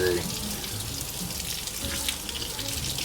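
Hot tap water runs steadily into a sink during washing, a continuous close hiss and splash lasting throughout, with faint background activity but no clear talk.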